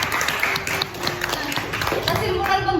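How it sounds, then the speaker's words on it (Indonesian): Students in a classroom clap for themselves, producing a dense, fairly loud patter of hands that carries on over a few seconds while voices mingle underneath. "Berikan tepuk tangan untuk diri kalian."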